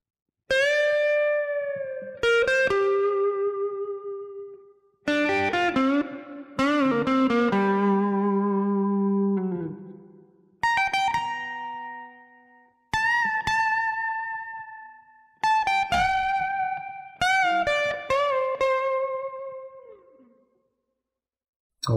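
Electric guitar through a Line 6 Helix with a signature lead tone and plate reverb, clean sustained single notes and chords ringing out one by one with long decaying tails, no voices.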